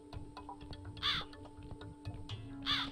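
A crow caws twice in the video game The Cat Lady, two separate raspy calls about a second and a half apart, clear and fairly near over a faint ticking ambient backdrop, with no talking.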